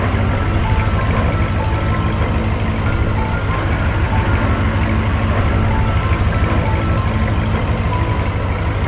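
A car in a Gulli Bulli zombie horror cartoon drives in, its loud, steady engine rumble running without a break and mixed with other vehicle noise, with no voices.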